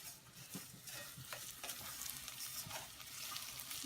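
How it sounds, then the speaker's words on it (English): Basmati rice being stirred into hot oil in a pan, a steady close sizzle with scraping stir strokes throughout, no voices. "So now I'm going to add the 2 cups of basmati rice, and we're going to stir that in."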